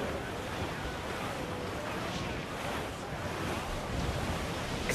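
Wind and ocean surf on a sailing ship in Assassin's Creed IV Black Flag, a steady, full roar of waves and gusting wind that stays loud and continuous throughout.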